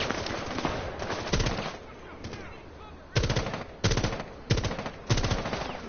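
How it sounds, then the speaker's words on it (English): Automatic assault rifle fire in the tactical shooter Rainbow Six Siege: several sharp, loud bursts of rapid shots, with heavier repeated bursts in the second half separated by short gaps. "Take out your assault rifle and shoot at them."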